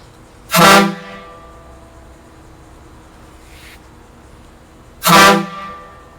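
A homemade air-powered PVC train horn gives two loud, separate blasts, each about half a second long, with a quiet pause of several seconds between them and no talking.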